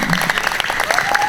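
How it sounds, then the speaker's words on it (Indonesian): A group of students at an Islamic boarding school event claps hands briskly in a dense, steady burst of applause lasting just over a second. "Tepuk tangan."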